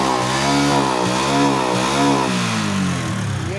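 A Hero Glamour motorcycle with a mechanical engine noise fault, after carburetor and filter cleaning and a new spark plug, runs loud and close, its engine note swelling and dipping with slight rev changes before settling.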